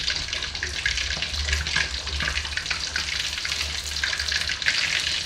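Fish fries in a pan with a steady, dense sizzle and crackle of hot oil that runs unbroken at close range, with no voices.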